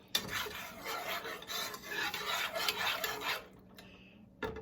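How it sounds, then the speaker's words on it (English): A spoon scrapes and rubs steadily through a pot of smoked turkey dirty rice, a close continuous rasping stir lasting several seconds before stopping, then one short knock at the end. "Stir it up."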